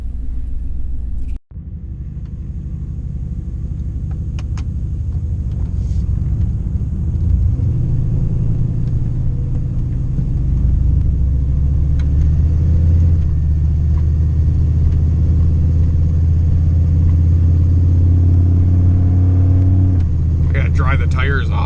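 Turbocharged Chevrolet Silverado pickup accelerating on a partly snowy road, its engine rising into a deep, loud, sustained rumble from inside the cab, with a brief thump near the start.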